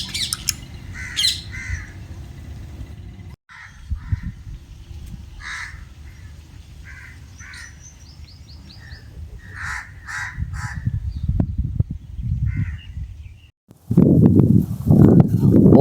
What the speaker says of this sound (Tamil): பார்த்தா மேலே ஃபுல்லாக பறவை உட்காந்துக்கிட்டு இருக்குங்க